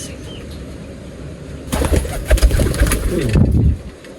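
An imported blue bar, white flight pigeon coos in low, throaty rolling bursts close by, with a brief flutter of wings and soft breathy rustling over a quiet room.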